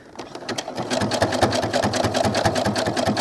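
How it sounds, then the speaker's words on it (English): A sewing machine runs steadily and loudly up close, its needle chattering in a fast even rhythm as it stitches doll clothes fabric alongside a pin. "Now I'm going to sew as close to this pin as I can without hitting it."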